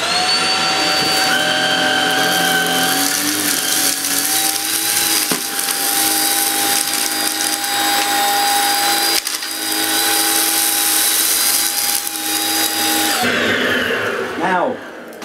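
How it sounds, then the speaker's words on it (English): A Shark Rocket Duo Clean vacuum cleaner runs steadily and loudly as its nozzle is pushed back and forth over a messy floor, a constant motor whine that winds down near the end. "I'll just pass the nozzle forward and back through the middle and we'll see how clean it leaves it."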